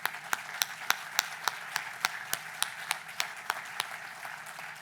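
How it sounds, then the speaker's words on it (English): An audience claps in a sparse, rhythmic pattern, individual hand claps ringing out at regular intervals over a quiet room, fairly faint and without voices. "So give these guys a round of applause."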